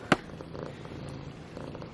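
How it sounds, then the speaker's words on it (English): A cat purrs softly in a quiet indoor setting, a faint, low, continuous rumble that follows a single sharp click at the start. "we're getting some purrs now"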